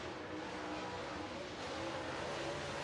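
A race car roars steadily into a corner at Lancaster Motor Speedway, a continuous dense engine drone at moderate distance with no distinct passes or breaks.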